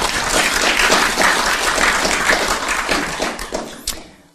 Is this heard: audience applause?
yes